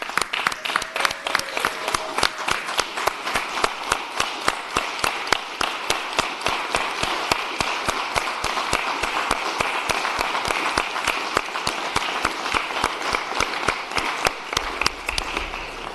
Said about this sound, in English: giving an unqualified and less than spontaneous applause and appreciation to our Senate finance staff